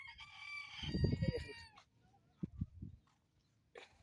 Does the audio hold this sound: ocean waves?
no